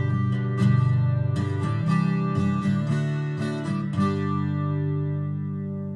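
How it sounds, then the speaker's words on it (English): Guitar tone on a Fractal FM3, FM9 or Axe-FX III acoustic preset, thickened by a static chorus pitch detune of about 5 cents up and down, strummed chords ringing out and decaying, loud and close with no talking. "Chorus pitch detune is another really great thing to do, just 5 cents plus or minus, and that would sound like this."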